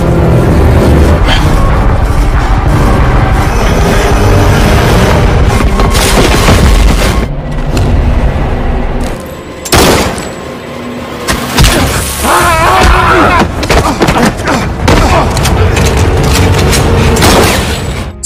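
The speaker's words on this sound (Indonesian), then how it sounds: "sungguh tanpa diduga, Peter yang telah melepaskan tembakan" Gunfire and booming impacts in an action film scene, loud and dense over a thick score, with a brief quieter gap before sharp cracks and bursts resume in rapid irregular succession.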